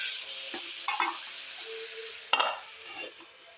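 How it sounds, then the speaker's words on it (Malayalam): Clam meat and chili powder sautéed in a pan with a steady sizzle, broken by a few close scrapes and clinks from stirring, and no one talking. "1 ടീസ്പൂൺ മുളക് പൊടിയും കൂടി ഇട്ട് നല്ലപോലെ ഒന്ന് വഴറ്റിയെടുക്കാം"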